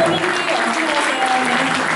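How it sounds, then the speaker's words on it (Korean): A crowd at a police award ceremony applauds steadily, many hands clapping at once, loud and sustained throughout. "여러분 큰 박수로 맞아주시기 바랍니다."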